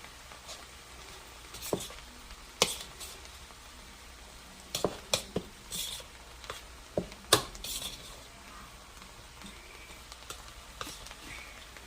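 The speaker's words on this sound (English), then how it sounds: "I have like teaspoons of salt, and I have a teaspoon of black pepper. And all right, I'm going to mix it up." Salmon croquette mixture being stirred by hand with salt and black pepper, giving scattered close clinks and scrapes of a utensil against a bowl amid low kitchen room noise, with no talking.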